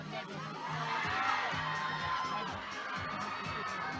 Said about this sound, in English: Got the crowd very excited with their taking possession.